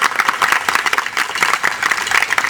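Audience of ladies and gentlemen at a Javanese culture talk applauds loudly in a dense, continuous burst of many hands, close and full throughout.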